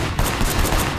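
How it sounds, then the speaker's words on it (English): Thugs' gunfire in the video game Sleeping Dogs, a dense run of rapid shots crackling over a steady loud background, sounding close and continuous for about a second with no talk. "Oh boy, his thugs have guns."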